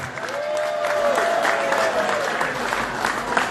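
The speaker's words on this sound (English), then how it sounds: "So let's give Jane and the crew a nice round of applause." An outdoor polka festival crowd gives a round of applause, many hands clapping at moderate loudness while a sustained musical tone and faint voices carry over the top.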